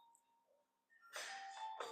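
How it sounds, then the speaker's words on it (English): A quiet electronic doorbell chimes, a couple of tones ringing out near the end after a near-silent start. "Doorbell's ringing"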